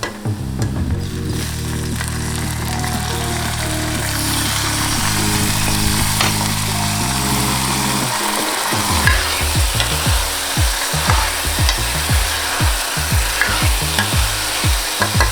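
Onion, tomato and chili tadka fries in a pan. Tonal music fills the first half, then close spoon-stirring clatters and scrapes over a continuous sizzle.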